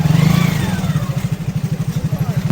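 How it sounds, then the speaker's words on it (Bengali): A motorcycle engine putters steadily nearby at a riverside boat landing with a rhythmic low thump, while voices talk faintly in the background. "বাইক নিয়ে আসতেছে।"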